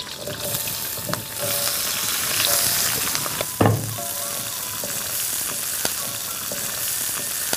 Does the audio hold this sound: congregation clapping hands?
no